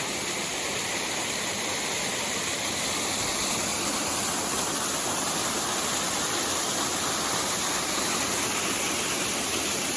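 A waterfall roars steadily and loudly, a dense unbroken rush of water with no voices.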